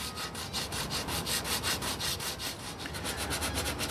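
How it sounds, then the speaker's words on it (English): An old 120-grit sanding disc works over a wooden furniture surface, feathering primer into new wood; steady rhythmic rasping strokes repeat close up, with no talking. "I'm using an old 120 grit sanding disc"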